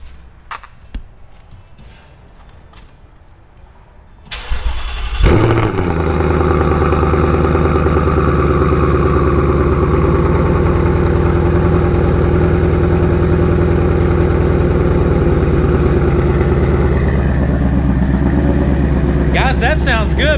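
A 1993 Mustang Cobra cold-starts after a few quiet clicks and shuffles, the engine catching with a loud burst and then settling into a steady, throaty, high idle that continues at close range.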